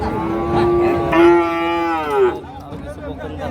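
A cow lowing loudly and close at a livestock market in Shariatpur, one long drawn-out moo with a rising then falling pitch, over a background murmur of the busy market.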